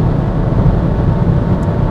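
Hyundai Kona 1.6 T-GDi with 7DCT gearbox and 4WD accelerating at full throttle, a loud, steady engine drone heard from inside the car with no talk over it.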